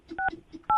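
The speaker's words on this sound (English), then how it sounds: "I'm going to dial the phone number right now" Telephone keypad tones as a phone number is dialed, three short beeps in quick succession, close and clear against a quiet background.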